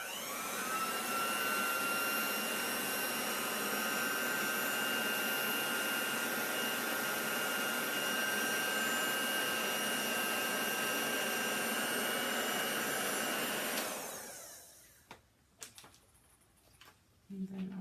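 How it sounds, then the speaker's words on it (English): A heat gun on its cool setting blows over a chalk transfer on a chalkboard, a loud, steady whooshing roar that runs unbroken for about fourteen seconds, then cuts off, leaving a few faint clicks and handling noises. "I'm not going to use the heat for my heat gun. I'm just going to use the cooler side"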